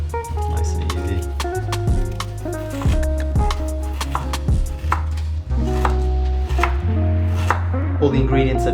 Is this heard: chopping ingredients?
yes